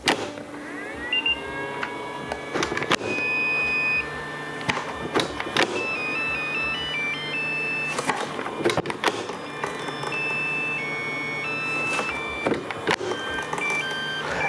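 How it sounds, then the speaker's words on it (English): A short electronic jingle of high beeping tones from a Makita 40-volt power tool battery charger plays over a steady mechanical hum, with a few clicks scattered through. "it still has the patented Makita little soundtrack"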